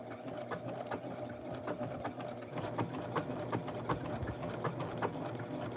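Sewing machine stitching a small blouse for a Barbie doll, a steady close mechanical whir with rapid rhythmic needle clicks running throughout.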